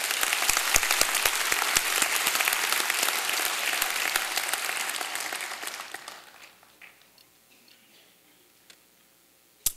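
A church congregation claps in thanks for the orchestra, choir and singers. The sound is dense and sustained for about six seconds, then thins to a few scattered claps and quiet room tone, with one last sharp clap at the end.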